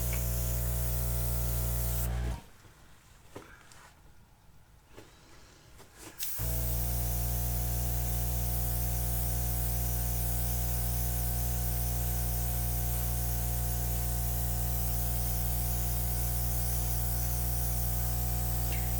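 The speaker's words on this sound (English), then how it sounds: "Let me blow these little edges out." Air blown over the edges of a wet acrylic paint pour gives a steady, loud hissing rush. It cuts out for about four seconds, then resumes and holds to the end, with no talking.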